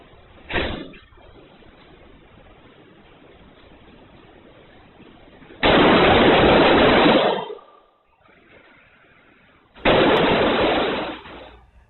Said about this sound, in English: you will hear the sound of gunfire in the video